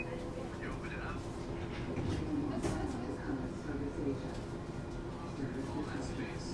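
Light rail LRT train riding along, a steady low rumble with faint rattles and occasional brighter squeals from the wagon, continuous throughout.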